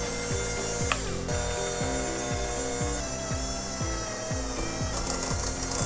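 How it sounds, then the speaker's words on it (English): An electric stand mixer creams sugar and butter for lemon cake bites, giving off a rhythmic, gear-like whirring and clattering that repeats in quick cycles, close and continuous with no talking. "we'll begin by turning on this machine and mixing the sugar and the butter"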